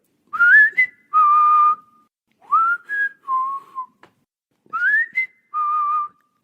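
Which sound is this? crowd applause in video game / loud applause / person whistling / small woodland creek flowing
person whistling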